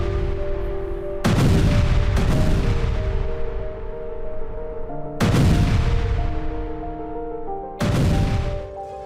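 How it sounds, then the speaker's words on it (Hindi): Tank shelling on Ukrainian front positions: four heavy, booming blasts, each striking sharply and then rolling off into a long decaying rumble, loud and spaced a few seconds apart over steady background noise. "टैंकों से यूक्रेनी मोर्चों पर गोलाबारी की गई।"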